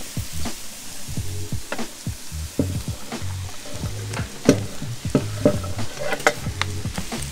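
Carrots, garlic and leek braise in a Dutch oven with a lively sizzle, broken by repeated scraping and stirring clatters of a utensil against the pot, close and irregular.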